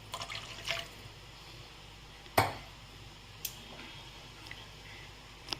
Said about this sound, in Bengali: আর একটু আমি জল দিচ্ছি।